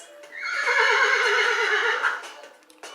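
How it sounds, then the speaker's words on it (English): A horse gives one loud, wavering whinny that rises and trails off over about two seconds, close and clear. "Horse."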